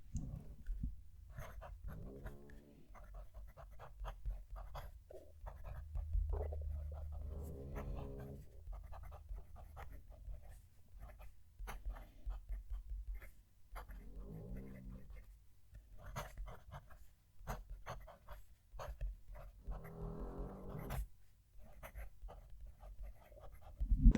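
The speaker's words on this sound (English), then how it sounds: "Let's move the mic down to the page and write a sentence." Fountain pen nib scratching across paper close up, a PenBBS 308 writing a sentence in short bursts of soft scraping strokes with pauses between, quiet and intimate with faint low background rumble.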